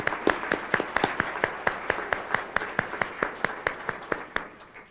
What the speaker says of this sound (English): Let's have a round of applause for Dr.